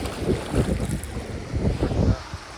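Sea waves wash ashore at Dwarka on the Gujarat coast in surging, uneven swells mixed with heavy wind buffeting the microphone.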